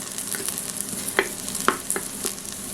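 Golden onions fry in a pan for a vegetable goulash, giving a steady, close sizzle with a few sharp crackles and light stirring scrapes throughout.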